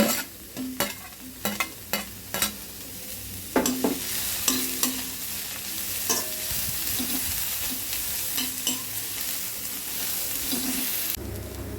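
Capsicum stir-fried with cabbage in a pan for vegetable fried rice: a steady sizzle under repeated sharp scrapes and clatters of a spatula, close and fairly loud.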